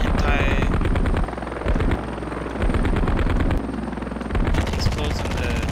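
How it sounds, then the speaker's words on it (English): Helicopter combat in the video game Heliborne, with an airborne explosion amid rotor drone and bursts of rapid machine-gun fire, loud and close, the rhythmic chopping cutting in and out. "explosion in the air"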